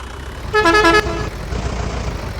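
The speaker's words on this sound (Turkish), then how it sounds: "Korna çal." A car horn in the Farming Simulator video game gives one loud, steady honk lasting about half a second, followed by the low rumble of a vehicle engine.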